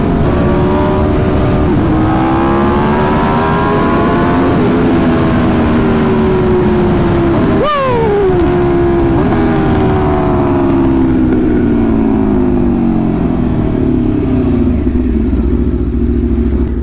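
An Aprilia RSV4 motorcycle engine with a Gabro ECU flash tune and a shorty exhaust runs loud and close, holding a steady raised RPM with one quick throttle blip midway before settling lower.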